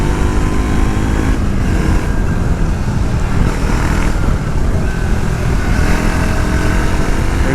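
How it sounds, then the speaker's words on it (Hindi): A 2026 Triumph Tracker 400 motorcycle's exhaust gives a loud, steady, thumpy drone that runs close and continuous throughout, with no talking. "Exhaust note man, exhaust note का अलग ही थम्पी साउंड है।"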